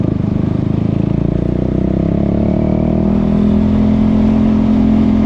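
A 300cc single-cylinder motorcycle being ridden on a road trip, its engine droning steadily and loud with a slight rise in pitch partway through, with no voices.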